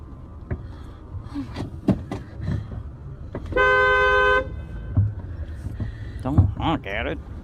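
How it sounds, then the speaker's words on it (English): A car horn honks in one sustained blast of about a second from a parked car where a woman waits, loud and close, with scattered speech and rustling around it. "Don't honk at it."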